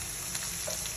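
Garlic fries in a pan with a continuous, even hiss of sizzling oil heard close up during one brief moment.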